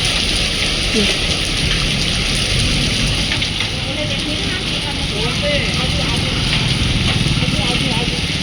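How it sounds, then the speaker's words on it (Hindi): Steady rain with small hailstones falls outdoors in a constant loud hiss that fills the whole stretch, while people talk over it. "क्या ये ओले पड़ने लग गए हैं, देखो छोटे छोटे।"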